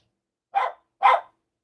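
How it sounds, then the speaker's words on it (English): A dog barks twice indoors, two short sharp woofs about half a second apart, moderately loud and close, with silence around them. "Sorry about the barking. My dog is barking back."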